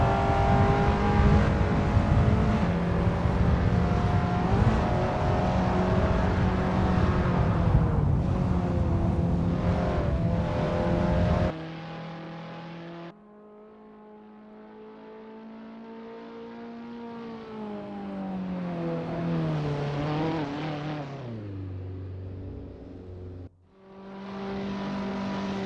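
Abarth 500 race cars at LuccaRing in Assetto Corsa, engines droning loudly with revving pitch shifts, a dense pack roaring first, then a single car accelerating and changing gears, with a brief drop near the end.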